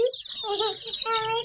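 Young chicks, kept in a newly built coop, give a quick run of close, high, wavering clucks and chirps, fairly loud and continuous for a moment.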